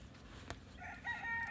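Backyard chickens cluck and call, with a brief crow-like vocalization rising over low farmyard ambience, moderately faint and without speech.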